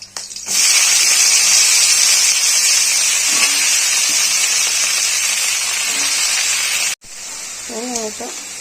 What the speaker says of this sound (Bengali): দিয়ে আমি এবার কপিগুলো ছেড়ে দেবো।